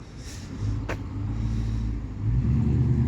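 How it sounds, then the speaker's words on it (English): A Toyota 4.7 V8 with a 3-inch straight-piped exhaust idles with a deep, steady rumble close by, then swells louder as the engine revs near the end. "She sounds pretty good. 3-inch exhaust, straight piped."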